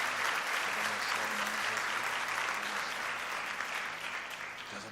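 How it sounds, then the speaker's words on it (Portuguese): A church congregation applauds during a worship service, steady full clapping throughout that fades slightly toward the end, with a faint voice underneath. "uma salva de palmas ao Senhor."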